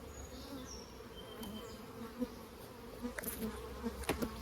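Honeybees buzz around a hive during maintenance, a faint continuous drone with occasional closer bees passing by. Soft clicks and handling noises sound underneath.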